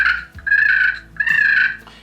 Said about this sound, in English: This is a triple toe turkey call, the Rendivius.